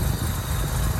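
Engine of a 1958 Jaguar XK150S Roadster idling, a steady, even rumble close by, running alone without voices.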